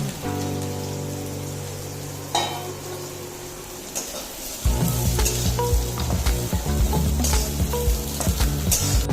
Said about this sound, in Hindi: फ्राइड राइस बनाने के लिए कढ़ाई में तेल डाल लिए हैं। इसमें हम सोयाबीन डाल देते हैं पहले।